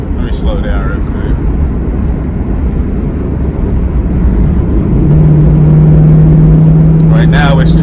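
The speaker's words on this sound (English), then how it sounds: "Right now it's trying to stay in third gear, but it's not like fully in third gear. It's like slipping." A 2002 Camaro Z28 with its transmission slipping in third gear: a loud, steady engine drone that swells midway and settles into a sustained higher hum, with brief voices at the start and end.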